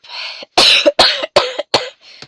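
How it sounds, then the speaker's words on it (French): Five harsh coughs in a quick rough series, close and fairly loud, from a woman at a sewing and embroidery session, followed by a fainter exhalation. "Vous doutez bien que je le fais pas exprès de tousser"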